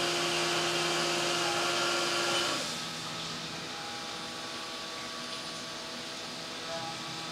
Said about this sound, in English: this looks like another 1/8 inch end mill. This is like a lid pocket that it's refining.